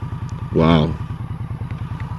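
Exhaust pipes of a 2017 Victory Octane motorcycle rumbling close and loud in a steady low pulse while riding, with a brief voice speaking over it.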